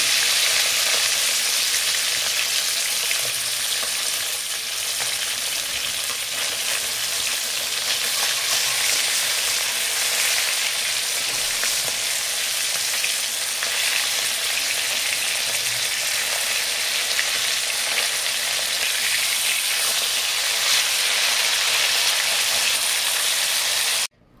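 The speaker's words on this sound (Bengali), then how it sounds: "তো এই এখন মাছ ভাজা হচ্ছে" Rohu fish frying in oil in a pan gives a loud, continuous close sizzle that holds steady for the whole stretch with no talk, then ends suddenly.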